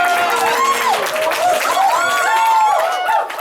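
An audience applauds for a DJ, a loud wash of clapping that runs throughout while a voice carries over the crowd.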